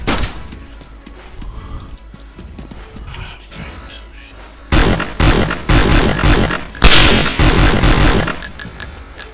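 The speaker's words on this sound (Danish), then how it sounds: "Jeg bliver skudt på." Gunfire in the survival game DayZ, a dense burst of shots and impacts that surges loud halfway through and keeps crackling, with someone talking over the start.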